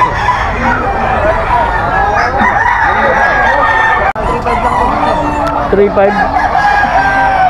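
An Early Bird bloodline gamefowl rooster crows loudly and nearby at a Bocaue pet market, amid clucking, general market bustle and people talking.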